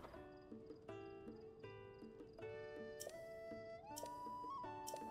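Horse hooves clip-clopping in The Legend of Zelda: Tears of the Kingdom, a steady trotting rhythm under bright musical game tones and chimes, no voices.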